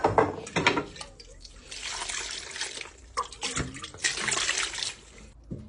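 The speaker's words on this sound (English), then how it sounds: "Let me add some water to it." Water splashes and gurgles as it is poured into a cooking pot with seasoning and cow earlobe, coming in uneven close bursts with a few drips.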